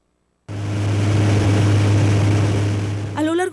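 Military patrol motorboats on the Hidrosogamoso reservoir drone with a loud, steady engine roar that kicks in abruptly and holds level, with a brief voice at the very end.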